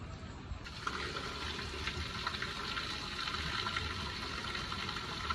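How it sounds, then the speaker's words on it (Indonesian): Spring water piped from an upland source flows into a Balinese temple bathing place, a steady loud gushing and splashing that starts abruptly and runs on close without pause. "Airnya ini dialirkan dari mata air yang ada di atas tadi."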